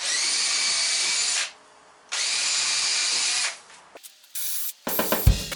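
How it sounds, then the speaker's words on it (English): Power drill boring pilot holes through the back of a wooden storage shelf into its uprights: two sustained high whining runs separated by a short gap, then a few brief bursts and clunks of the tool being handled. "some pilot holes through the back of this into our uprights"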